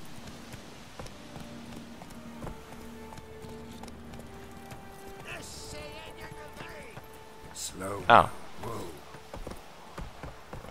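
A horse's hooves in the video game Witcher 3 clip-clop in a steady rhythm over soft game music, with a voice speaking briefly and a loud burst near the end.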